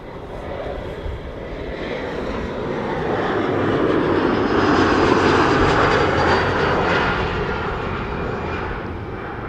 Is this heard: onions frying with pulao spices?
no